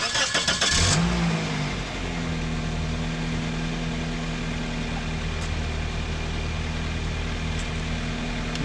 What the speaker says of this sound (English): I have the car running just so that the battery doesn't die.